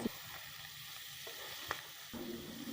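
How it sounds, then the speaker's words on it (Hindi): An aloo keema mixture of potatoes and minced meat fries in a pan, giving a soft steady sizzle with faint scraping taps of a spoon stirring it, fairly quiet and without voices. "फिर चम्मच से इसे फिर से भूनना है थोड़ी देर, बिल्कुल जैसे ये मिक्स हो जाए।"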